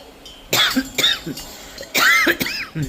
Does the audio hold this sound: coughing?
yes